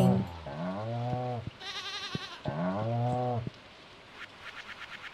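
A goat bleats in Stardew Valley, two loud, close, wavering calls each about a second long, separated by brief chimes, followed by a quieter rattling tail.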